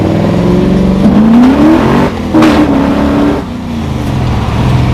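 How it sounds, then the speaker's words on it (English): A 1967 Ford Mustang Fastback with a 427 side-oiler V8 stroked to 498 cubic inches and Hilborn fuel injection revs hard and close, its deep engine note rising and falling in several surges with no talk over it. "427 cubic inch motor, basically side oiler, but now it's stroked to a 498."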